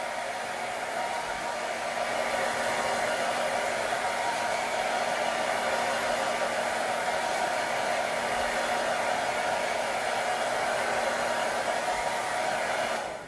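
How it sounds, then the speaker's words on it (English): A blow dryer melting wax blows steadily with a constant whooshing roar, close and uninterrupted for the whole stretch. "I like to hit it with the blow dryer to melt it"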